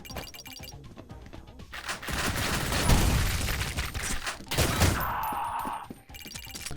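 Grenade explosions in the retro shooter video game Ion Maiden: two heavy booming blasts with crashing debris between sharp gunfire-like cracks and a ringing chime, all game audio with no talk.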